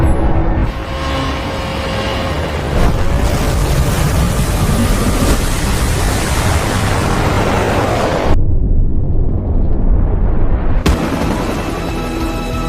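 A missile strike blows up a ship in The Expendables 4, heard as a sustained loud roaring blast with crackling debris, a sudden drop, then a second burst of rumbling noise.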